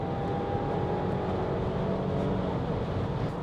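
Steady, full-bodied engine and road hum from a Renault Austral hybrid cruising at about 100 km/h, a continuous low drone with a faint tonal whine riding through, no voices.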